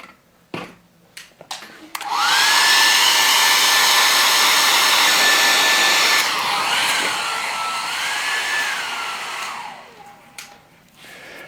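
A hair dryer blows steadily and loudly over a watercolor painting coated with art masking fluid, starting after a few light clicks; its pitch shifts about midway before the dryer winds down and stops.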